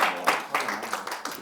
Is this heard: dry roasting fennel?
no